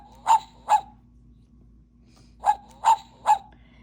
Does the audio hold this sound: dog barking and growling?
yes